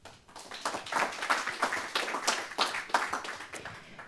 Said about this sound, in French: Toujours sous vos applaudissements